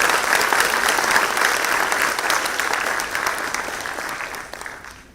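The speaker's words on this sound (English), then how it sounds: "So can we give a round of applause to the 3 awardees before they land up on the stage?" Audience at an automation and data science awards ceremony gives a sustained round of applause for awardees, a full crowd clapping that slowly thins and fades out near the end.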